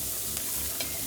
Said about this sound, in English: So getting those shallots cooked, browned, not black.